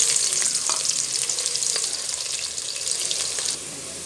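Large onions frying in about a cup of hot oil make a dense, bright, continuous sizzle, close and loud, that eases slightly near the end.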